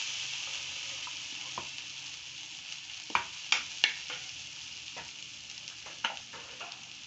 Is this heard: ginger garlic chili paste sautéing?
yes